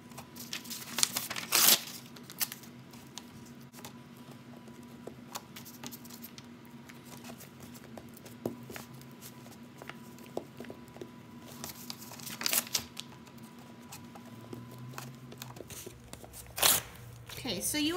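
Paper strips rustle and crinkle as they are pressed onto a papier-mâché mask, soft scattered crackles and a few louder crumpling bursts, with a faint steady hum in the background.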